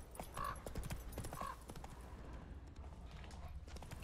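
Roach, the horse in The Witcher 3, sounds in a forest setting with a steady clip-clop of hooves plus faint snorts and tack jingles, moderately close, over ambient game background and no talk.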